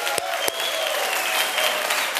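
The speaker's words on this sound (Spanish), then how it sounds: "Un aplauso para Lázaro." A studio audience bursts into loud, dense applause for Lázaro Candal on a talk show, steady clapping throughout the short stretch.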